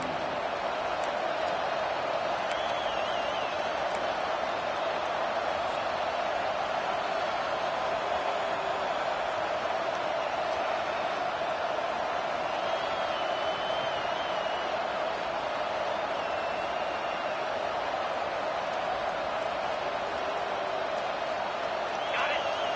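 Steady crowd roar fills a college football video game stadium, Oklahoma at LSU, late in the fourth quarter on first and goal, a continuous dense wash of noise with no breaks.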